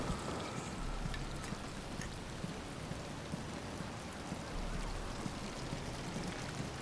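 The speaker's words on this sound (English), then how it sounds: "But it's starting to rain." Steady rain falls in Batman: Arkham Asylum, a dense continuous hiss of drops on surfaces that stays even and moderately loud throughout, with no voices.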